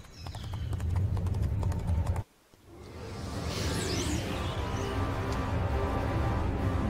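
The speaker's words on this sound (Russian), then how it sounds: "Еще такие же лошадки нас ждут." Horses clip-clop in Heroes of Might and Magic V, a rhythmic hoof patter under game music, cut by a brief silence, then swelling back with a sweeping whoosh.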